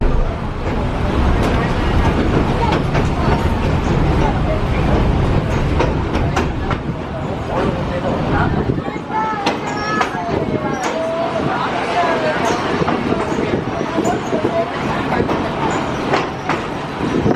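A tourist excursion train at Lincoln, New Hampshire, rumbles past up close, a loud steady roar with rhythmic clickety-clack of wheels on rails and faint voices in the background.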